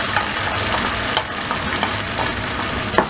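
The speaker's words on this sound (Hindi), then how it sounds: "पेस्ट को ऑनियन के साथ इसको ऑयल में फ्राई करेंगे।" Onion and ginger-garlic paste fry in oil for bhindi do pyaza, a loud, steady sizzle close up with occasional stirring scrapes and small crackling pops throughout.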